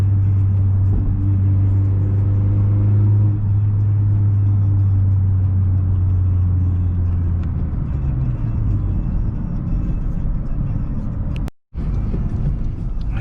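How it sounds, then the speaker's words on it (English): Car engine with an aftermarket intake and a Powermetric stage 1 tune, droning at a steady low pitch for several seconds, then tapering into road rumble, with a short dropout near the end. "I wonder if you guys could hear my intake."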